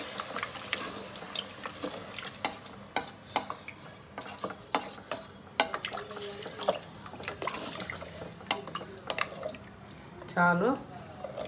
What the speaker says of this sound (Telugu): వాటర్ పోసేసుకుందాం.